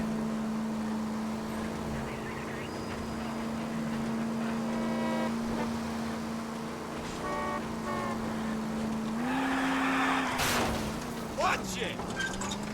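A car is driven through the streets in LA Noire, its engine holding a steady low hum that climbs slightly in pitch partway through, with scattered game sounds and a horn-like burst near the end.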